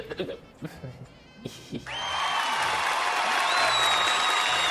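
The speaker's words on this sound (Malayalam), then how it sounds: "ഈ ഓഡിയൻസ് കൈയടിക്കാത്തതുകൊണ്ടാണോ ഫേക്ക് കൈയടിയിട്ട് കൊടുക്കുന്നത്?" Broad canned applause and crowd noise swell up and hold steady for several seconds, added over a Bigg Boss Malayalam Season 6 TV episode, following a few brief knocks and fragments of background sound.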